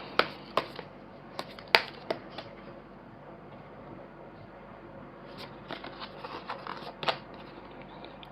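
Tarot cards are shuffled and drawn by hand. The sharp riffles and slaps come in irregular bursts, close and fairly quiet, with soft rustling between them.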